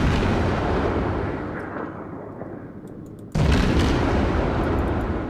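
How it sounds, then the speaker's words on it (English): Heavy naval main guns of a warship with two arrays of four guns boom in World of Warships, one roaring broadband blast dying down before a second sharp, loud salvo bursts in and rumbles on. "this ship, basically it has 2 arrays of 4 guns, which I will fire off to show you"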